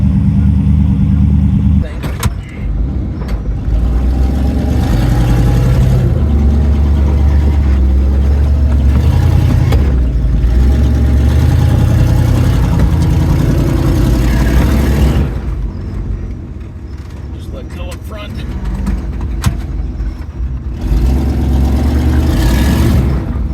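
An off-road tow rig's engine drags a broken Ultra4 race car out at Rausch Creek, a loud low rumble that holds steady and surges under bursts of nearby talk and shouting.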